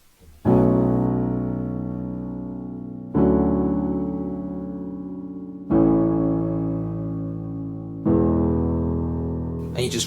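Piano plays the chorus of a song as four sustained chords, each struck on the beat and left to ring and decay, close and clear with no voices.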